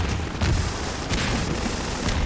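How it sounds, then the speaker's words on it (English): APC gunfire in Half-Life 2, dense overlapping heavy shots and booming impacts forming a continuous loud barrage with a few sharper cracks standing out. "Nope, the APC is still shooting shit at me."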